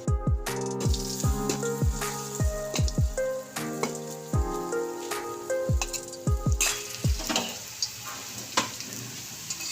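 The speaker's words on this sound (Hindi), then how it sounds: "अब मैं ये सोया बड़ी अच्छी तरह से फ्राई कर लेती हूँ।" Soya chunks frying in oil in a kadhai, giving a continuous crackling sizzle close by with repeated soft knocks and stirring sounds, set under a faint tune with no voices.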